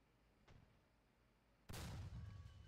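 A tank cannon fires at an enemy turret in the War Thunder game, a T-29 in play: one faint thump, then a single loud deep boom whose rumble lingers.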